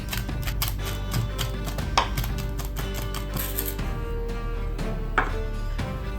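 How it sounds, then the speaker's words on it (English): Garlic cloves minced with a kitchen knife on a board, a rapid steady train of close, crisp chopping taps running throughout with a few heavier knocks and no talking. "We need 3 cloves of garlic finely minced."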